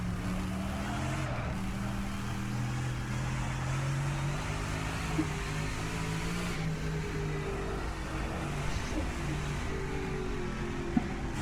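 An AC Cobra race car engine drones steadily in rFactor 2 on the Nürburgring Nordschleife, a continuous loud roar with shifting pitch that holds through to the end and no breaks.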